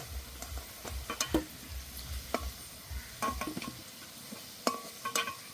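Potatoes fry in oil in a pan, a steady soft sizzle under repeated clinks and scrapes of a spatula stirring against the metal, close by and moderately quiet.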